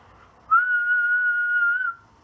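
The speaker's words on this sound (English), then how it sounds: "try whistling. If you can whistle, practice changing pitch up and down." A person whistles one clear, sustained note of about a second and a half, holding it fairly steady before a slight lift at the end, alone in a quiet room.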